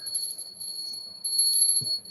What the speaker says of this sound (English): Here's a bell